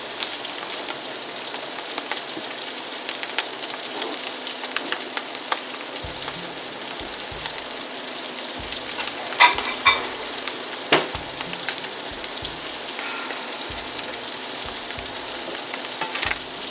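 Pork chops fry in a pan with a steady, dense sizzle and crackle throughout, while soft low knocks and thumps come in and out from about the middle onward.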